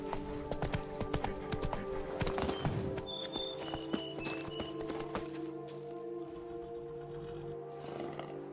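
Geralt's horse Roach clip-clops at a steady walking pace in The Witcher 3 video game, hoofbeats set against a dense bed of game ambience and music, with a few brief high chimes in the middle.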